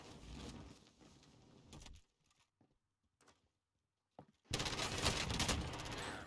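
Rapid automatic gunfire in Call of Duty Modern Warfare, a loud sustained burst that cuts out into near silence with a few faint shots, then resumes as another dense, loud volley.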